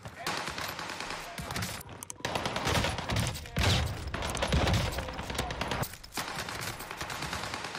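Bursts of rapid automatic gunfire in Call of Duty Warzone on Rebirth Island, dense and continuous with louder volleys mixed into a busy battle din.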